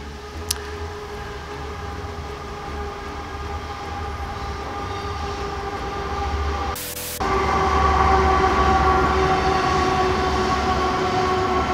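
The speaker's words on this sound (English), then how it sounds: "Just kind of hoping that would be a fast train." A train passing close by, a loud sustained rumble of rolling wheels with steady tonal squeal that swells and grows louder toward the end, with no talking.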